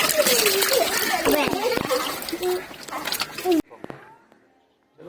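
Water splashing and trickling as people wash their hands under a hand pump in a poor settlement, with children and adults talking loudly over the spatter before it suddenly goes quiet.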